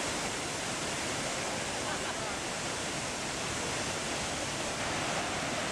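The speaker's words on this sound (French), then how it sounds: "Les cascades, de 110 mètres de haut, se présentent sur 3 paliers." Ouzoud waterfalls near Marrakech, a 110-metre cascade dropping over three tiers, give a steady, dense, full-band roar that holds even and loud with no pauses.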